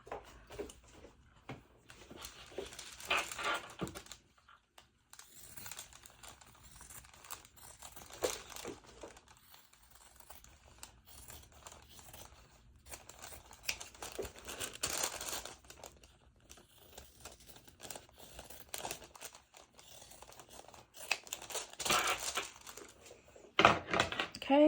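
Fabric pieces for a sewn harvest pouch being handled and cut out, giving intermittent crinkly rustling and snipping sounds in bursts across the clip, fairly close and quiet, with no talking.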